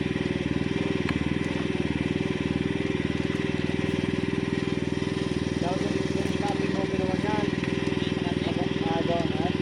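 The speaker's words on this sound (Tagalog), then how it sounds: "Yung generator." A generator engine runs steadily and loudly up close, a constant droning hum with no letup.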